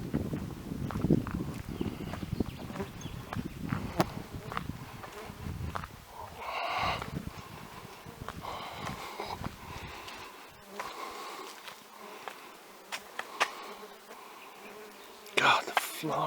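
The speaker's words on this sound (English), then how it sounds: "And the flies buzzing around." Flies buzzing around in the open air on an Australian road trip stop, a faint continuous insect drone with scattered rustling and footsteps, no talk.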